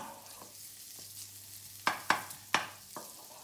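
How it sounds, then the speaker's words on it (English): Chorizo sizzles quietly in a pan, broken by a few sharp clacks of a utensil against the pan. "So we want to be able to hear it frying."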